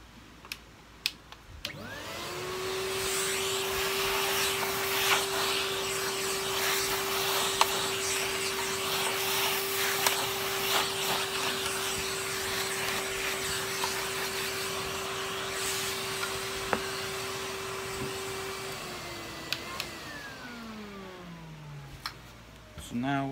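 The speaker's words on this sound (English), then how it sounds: "Bit dusty, let me give it a vacuum." A vacuum cleaner cleans dust off a part of a Kirby G6 2000 Limited Edition vacuum. Its motor spins up to a steady, loud whine for about seventeen seconds, then winds down, with small clicks and knocks as the nozzle moves.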